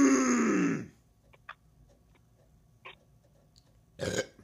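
A loud, drawn-out burp close to the microphone, falling in pitch as it fades, followed by faint clicks and small noises and a shorter guttural grunt near the end.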